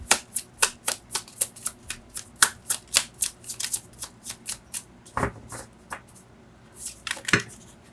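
Tarot cards being shuffled by hand, a rapid run of crisp riffling slaps and flicks close by, pausing briefly before a few more sharp bursts near the end.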